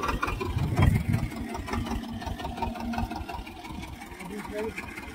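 A Swaraj 724 tractor with a 6x6 disc harrow runs through a gear test, its engine chugging steadily at mid pitch under people talking nearby.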